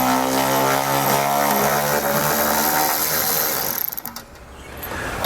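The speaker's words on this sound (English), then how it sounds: "We're going to take a T40 Torx bit. We need to remove our exhaust tips." A hand ratchet fitted with a T40 Torx bit clicks rapidly and loudly while backing out exhaust tip bolts on a 2018 Mercedes-Benz GL, a close, continuous buzzing ratchet run that stops near the end.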